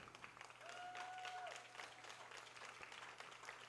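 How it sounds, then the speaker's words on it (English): Distant crowd applause at a boys' high school soccer match, steady and fairly faint, with a sharp whistle-like tone early and scattered cheering over the field ambience. "big applause from the crowd"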